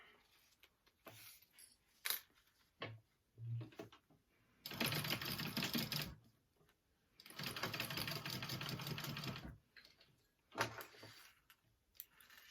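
A sewing machine stitching the seam of a mini backpack runs in two long, steady bursts of several seconds each, with short handling taps and pauses in between, close and fairly loud, no talk.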